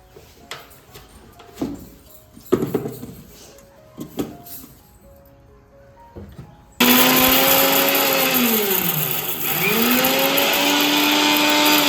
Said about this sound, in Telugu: ఈ మూడు కలిపి మిక్సీ పట్టుకుంది